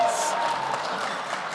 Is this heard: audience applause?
yes